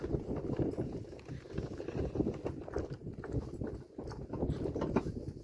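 Steady clip-clop of a draft mare's hooves trotting along, a continuous rhythmic clatter mixed with rumbling wheels and wind noise.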